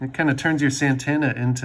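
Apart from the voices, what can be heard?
No everyday noise stands out behind the speech.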